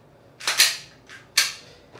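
An EF Glock 34 Gen 5 MOS CO2 airsoft pistol firing BBs: three sharp, close pops over two seconds, the first two quick together and the last after a short pause.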